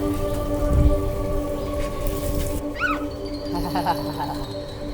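Steady rain hisses at the start and then cuts off about halfway through, leaving a quieter background with voices talking close by.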